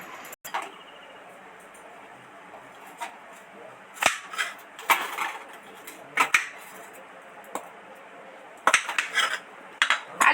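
Three potatoes being cut into four pieces each on a kitchen board, irregular sharp knife clacks and taps separated by quiet pauses, with a cluster of quick chops toward the end, close up.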